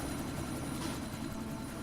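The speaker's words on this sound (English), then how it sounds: "Stop the chopper from escaping." Helicopter escaping in Deus Ex: Mankind Divided, a steady dense engine and rotor rumble with broad whooshing noise, close and continuous without speech.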